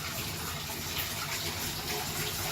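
Water from a gallon jug gushes in a steady, unbroken stream into a wet-tumbling drum holding brass cartridge cases, a continuous hiss-like pour at moderate volume with no pauses.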